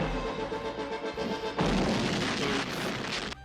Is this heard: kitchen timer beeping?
no